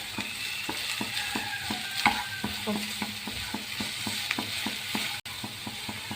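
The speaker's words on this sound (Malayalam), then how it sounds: "നമുക്കിതിലേക്ക് ക്യാബേജ് ഇട്ട് കൊടുക്കാം. നന്നായി വഴറ്റി കൊടുക്കാം." Shredded cabbage sautéing in a pan for a Malayalam moon veg snack, a steady sizzle broken by regular scraping stirs of a spatula against the pan, close and continuous with no talk.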